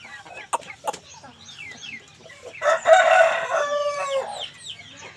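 A short-nose long-tail hen nearby lets out a loud, drawn-out cackling call midway, preceded by a few sharp knocks and softer clucks from surrounding birds.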